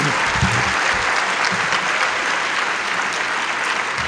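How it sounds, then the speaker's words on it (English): Loud, dense applause fills a dinner hall as the audience claps for the development director who organized the evening, a steady continuous wash of many hands with no talking over it. "let's have also a round of applause for the person most responsible for organizing tonight, our development director, Molly Kramer"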